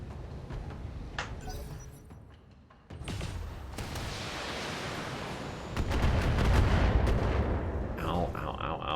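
Mech weapons fire in the BattleTech video game as a dense barrage of booming blasts and crackling impacts that swells louder toward the end, with a brief lull partway through.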